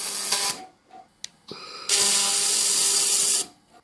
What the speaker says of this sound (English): I'll give it a couple of tack welds first.